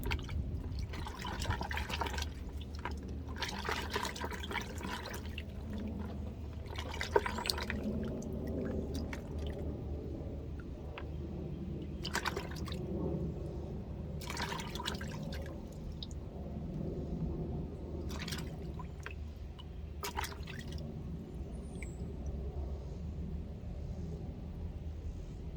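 Water splashes and runs steadily over freshly harvested vegetables, including cucumber, being rinsed in a homemade washing setup, with a continuous low rumbling flow and scattered louder splashes and drips throughout.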